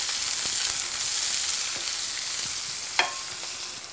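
Bell pepper sizzles in hot oil in a pan on an induction stove top, a constant close hiss broken by light stirring scrapes and one sharp utensil clack.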